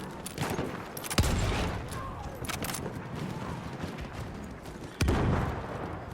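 Battlefield 1 castle-siege battle on PS4 with bombs exploding: two sharp heavy blasts stand out against a continuous din of distant gunfire and rumble, with faint voices mixed in.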